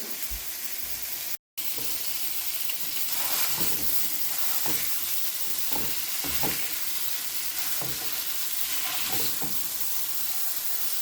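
Sausage meat fries in a pan while being mashed and stirred, a steady sizzle and hiss broken by repeated scraping and pressing strokes, close and moderately quiet with no talk.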